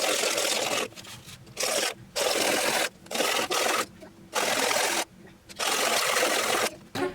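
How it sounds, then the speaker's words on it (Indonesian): Handheld abrasive smoothing of the freshly cut tip of a pen made from a used lighter, heard as repeated bursts of gritty rubbing separated by short pauses, close and fairly loud. "Jadi selanjutnya setelah kita potong ujung pulpennya, kita ratakan dulu teman-teman."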